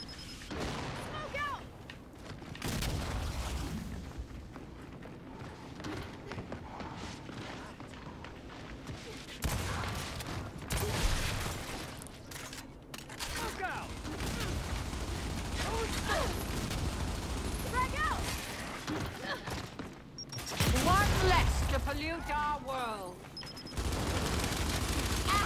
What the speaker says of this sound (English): Them grenades be taking a little minute to blow up